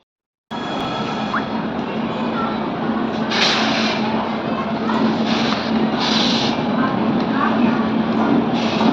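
A train rolls past nearby with a continuous heavy rumble and rhythmic wheel-on-rail clatter, the noise rising and falling in bursts, while people talk faintly underneath.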